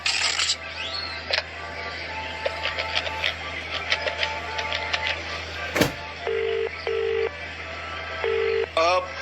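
Someone dials a telephone at a public call booth, and a short run of evenly spaced beeping keypad tones follows after scattered clicks and handling noises. A low steady hum of the surroundings runs underneath throughout.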